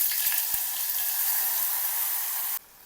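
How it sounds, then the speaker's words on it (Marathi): Ground spice paste with cumin and asafoetida sizzling in hot oil in a heated pot for a soybean vadi gravy, a steady close frying hiss that cuts off abruptly near the end. "मसाल्याला परतून घ्यायचं। मसाले छान भाजायचे तेलामध्ये।"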